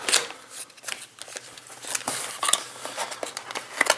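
Packaging for an X-Wing miniatures game, a TIE Interceptor expansion, being unboxed: close, busy crinkling, crackling and rustling of plastic and card, with small taps and pops scattered through, no speech.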